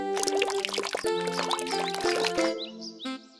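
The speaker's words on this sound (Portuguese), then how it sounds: "Derrame um pouco de água na plantinha." Water poured onto a small wilting plant in a Portuguese-language animated cartoon, a steady liquid pour running about two and a half seconds over light musical tones, then stopping.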